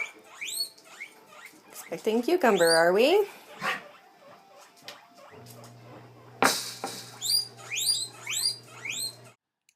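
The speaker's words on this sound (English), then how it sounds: "This is what we go through on a daily basis with guinea pigs" Several guinea pigs squeak and chatter in eager bursts, one rising into a loud wavering whistle, with a low steady hum underneath and a person speaking briefly near the start.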